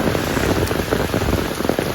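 Steady rain pours down near the Meenmutty waterfall at Kallar, a dense, even hiss of drops striking surfaces with no voices.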